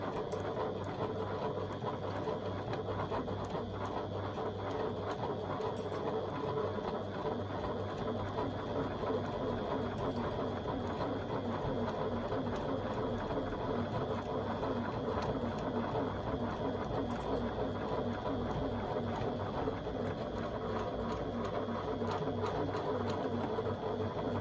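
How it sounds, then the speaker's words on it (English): A sewing machine running steadily as it back stitches the start of a 3/8-inch seam, a close, even mechanical whir and rapid needle rattle continuing without pause throughout. "Just back stitching a couple of stitches at the beginning to secure my threads."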